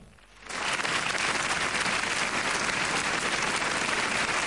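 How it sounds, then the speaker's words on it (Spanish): Audience at a tribute event breaking into sustained applause, clapping rising quickly from a quiet room and holding steady and full throughout. "Un aplauso para don Luis Landricina"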